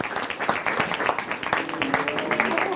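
Steady applause from a mind-reading show audience, many hands clapping in a dense, continuous patter that holds at an even level throughout.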